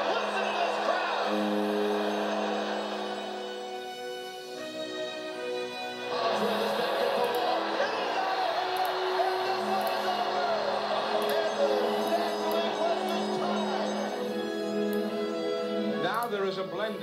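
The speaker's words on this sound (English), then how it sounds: "listen to this crowd" Baseball stadium crowd at the San Francisco Giants' 2000 home opener, a dense, sustained roar of cheering fans with steady loudness throughout, swelling again midway, and a broadcast voice over the noise.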